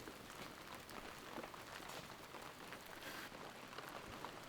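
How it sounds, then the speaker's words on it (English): Steady, dense rain falls continuously, a close hiss of drops spattering on surfaces with no pauses and no voices. "It's gonna rain like this again tomorrow"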